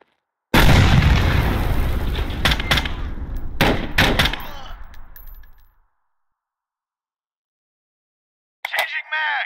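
A frag grenade blast and gunfire in Door Kickers 2: a loud close explosion rolls into a rapid string of sharp shots and a decaying rumble, then silence, then a short final burst of fire.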